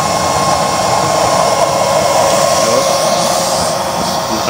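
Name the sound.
12-volt high-speed blower on DIY waste oil stove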